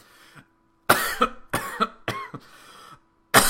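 A person coughs several times in a row, harsh and close, with brief pauses between the bursts.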